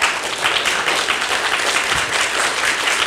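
Steady applause from a leadership summit audience welcoming fourteen high school students onto the stage: dense, even clapping that holds for about three seconds with no talk over it.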